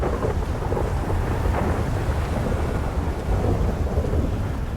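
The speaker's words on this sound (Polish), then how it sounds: "Ale pierdolęło, widzieliście to? Jaki piorun wielki?" A big thunder strike rolls through a rainy storm in the video game GTA 5, a deep, sustained rumble layered over steady rain hiss, loud and close with no speech.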